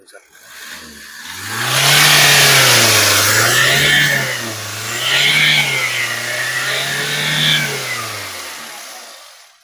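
A 2019 Toyota Etios VXD diesel engine is revved up from idle in several rising and falling surges, loud and close, then settles back down.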